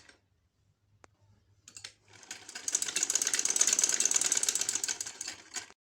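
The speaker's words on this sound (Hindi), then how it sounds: "यहाँ पे हम एक एक पैर की सिलाई पूरे राउंड में लगा देंगे" A sewing machine stitches an abaya in one steady run, a fast, even rattle that starts after a few soft clicks, holds for about three seconds close to the microphone, then stops.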